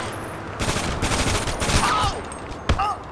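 AK rifle gunfire in GTA 5 comes as a rapid burst of shots, then scattered loud cracks and a final sharp report, set against a steady game background with faint whistling tones.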